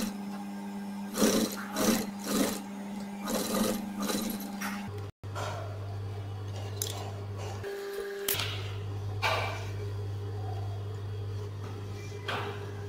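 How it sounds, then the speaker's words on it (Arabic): A sewing machine stitches fabric for a jacket pocket, a steady mechanical whir and hum that runs throughout, shifting pitch as it works, with a brief cutout near the middle and a short pause later. "انا بخيط العرض بس مش الطول"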